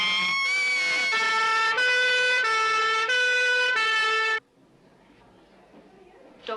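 A two-tone ambulance siren wails loud and close in a 1968 British film, its steady alternating pitch held for about four seconds before cutting off abruptly into quiet room tone.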